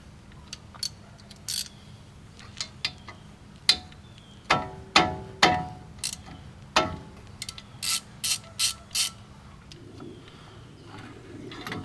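A hand ratchet works a 13mm brake caliper bolt loose on a 2004 Chevrolet Colorado. It gives a series of crisp, close clicking pawl bursts in irregular strokes, with a few metallic knocks between.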